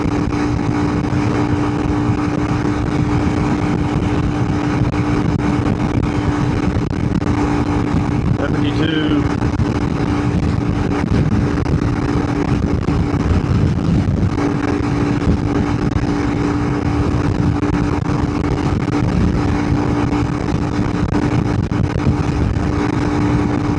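A Honda CRF300L big-bore motorcycle at full throttle climbing a hill, its engine holding a loud, steady drone through the whole stretch under rough buffeting noise.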